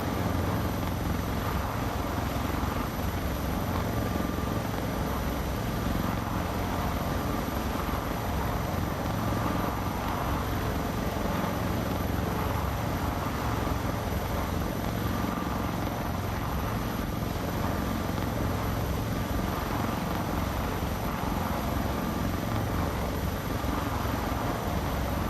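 A helicopter rotor in a flight simulator game gives a loud, steady droning whir that holds unbroken and close for the whole stretch, with no voices over it.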